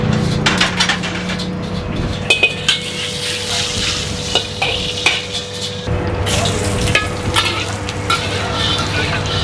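Food for fu yung hai and plain capcay sizzles steadily in a hot pan while a utensil scrapes and clatters against the metal in quick, irregular strokes, loud and close, with no voices.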